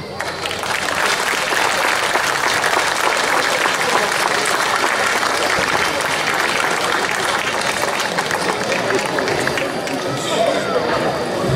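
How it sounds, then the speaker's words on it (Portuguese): An audience claps steadily for a person called to the stage at a local community event, dense and sustained applause with a murmur of crowd voices running under it throughout. "É com muito gosto que eu chamo ao palco, para que receba também aplausos, Isabel Parreira."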